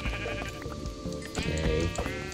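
Sheep bleating in the video game Minecraft during a hailstorm, a couple of close, loud bleats layered over steady rain and hail patter, with no talking.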